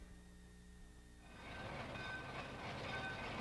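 A train on the former Erie Railroad Honesdale branch, a 25-mile line from Honesdale to Lackawaxen, rolls in: faint distant hum at first, then a steady louder rumble with squealing wheel tones as it nears.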